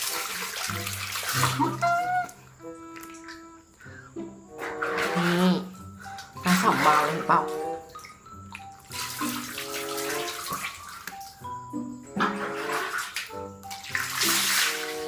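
Water runs and splashes from a tap or shower in a bathroom during showering, coming in bursts with pauses, with faint tonal household sounds in between.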